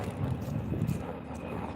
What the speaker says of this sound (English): There goes the helicopter. It's a military chopper.